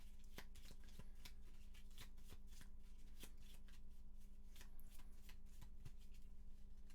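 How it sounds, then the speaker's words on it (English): A deck of Gloomhaven board game cards is shuffled by hand at a table, a quiet, steady run of soft riffling clicks and flutters that goes on for several seconds with no talk. "And give this another shuffle."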